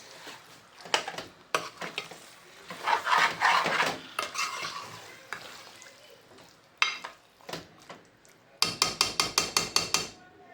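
Surmai fish keema being stirred in a pan over a medium flame, a spoon clattering and scraping against the metal in irregular bursts, ending in a quick run of sharp rhythmic taps.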